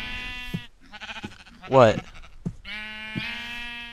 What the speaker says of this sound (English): I'm killing sheep with my fists